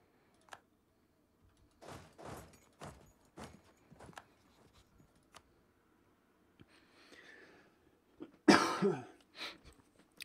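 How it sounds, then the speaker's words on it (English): A man at a computer coughs and clears his throat in several short, dry bursts spaced out over the stretch. They are close and fairly quiet, with a louder, harsher fit near the end and small ticks and knocks between. "My damn cough is so irritating."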